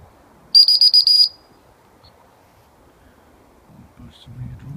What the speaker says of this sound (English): I'll just whistle for the dog.